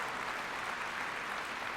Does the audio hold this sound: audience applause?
yes